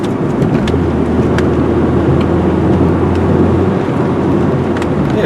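A 1998 Saturn SL drives along the road, its steady engine drone and low rumble of tire and road noise heard from inside the cabin, loud and constant with no talking.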